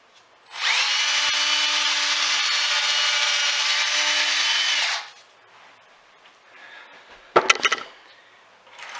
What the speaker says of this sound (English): And you want to drill into the stud.